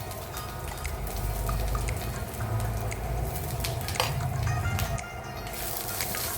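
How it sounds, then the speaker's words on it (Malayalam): Grated coconut, urad dal and dried chillies are roasted in a pan over a low flame, giving a soft, steady sizzle with a spoon stirring and scraping and occasional light clinks against the pan. "ഈ നാളികേരവും ഉഴുന്ന് പരിപ്പും വറ്റൽമുളകും കൂടി ചേർത്ത് നന്നായിട്ടൊന്ന് ചെറിയ തീയിലിട്ട് ഒന്ന് വറുത്തെടുക്കാം."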